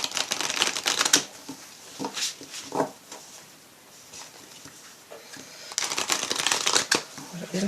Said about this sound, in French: je vais prendre une carte de l'oracle